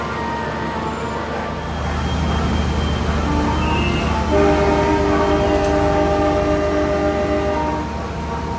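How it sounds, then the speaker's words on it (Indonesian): The Logawa train pulls into the station, a drawn-out rumble of wheels on rails with steady tonal brake squeals and a brief horn, close and sustained. "Kereta Logawa sudah tiba dengan selamat sampai di Kali Style"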